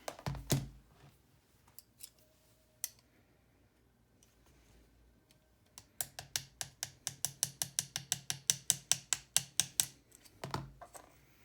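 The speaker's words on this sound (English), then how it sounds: "Let's take off the bolt release." A Raven Elite blaster has its bolt release removed, heard as scattered small clicks and then a rapid run of sharp ratcheting ticks, quiet and close.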